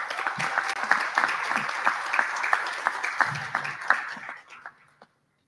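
Warm round of audience applause at a graduation ceremony, a full burst of many hands clapping close by that holds steady, then thins out and fades to silence.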